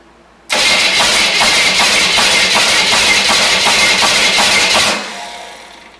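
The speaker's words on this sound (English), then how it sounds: "That knocking noise, I can't tell if it's the starter or the engine" A loud junkyard engine for a 1972 Corvette, sitting on a garage floor, cranks steadily for several seconds with a rhythmic knocking pulse, then catches and fades toward a quieter idle.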